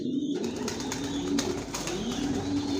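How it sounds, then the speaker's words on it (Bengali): Racing pigeons of a single Johnson line coo steadily in a loft, a continuous low layered cooing from several birds close by with no talk. "আমার লফটে সব একই লাইনের কবুতর পালি"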